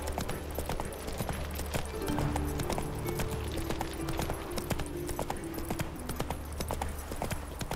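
In The Witcher 3, Geralt's horse Roach clip-clops with steady, rhythmic hoofbeats at a brisk pace, close and clear over soft background music.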